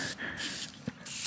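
Short bursts of hissing spray from a spray paint can, three or four quick sprays separated by brief pauses, close by.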